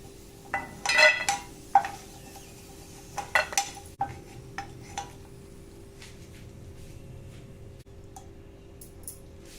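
A spoon scrapes and clinks against a pan while roasted dry fruits, including raisins, are scooped out for Eid sheer khurma. There are a few quick metallic clatters early on, then quieter scattered taps, all close by.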